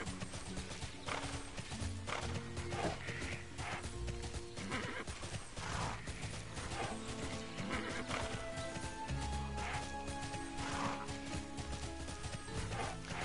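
Horse riding in Tera: continuous clip-clopping hooves under repeated neighs and whinnies, with occasional crash-like hits and game music in the background.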